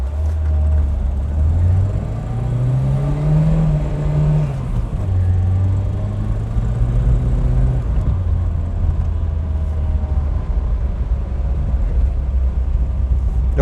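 A Citroën BX accelerates across the sand of 90 Mile Beach, its engine droning and rising in pitch, dipping, then climbing again, with strong wind rumble the whole time.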